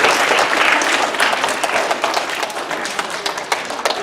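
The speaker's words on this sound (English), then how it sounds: "Give Adeline a big round of applause, everybody." A crowd at a children's story reading by Mayor McDermott breaks into applause for a young girl named Adeline, a loud, continuous patter of many hands with scattered sharper claps standing out.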